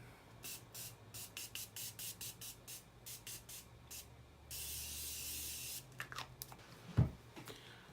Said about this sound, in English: Gonna take some setting spray.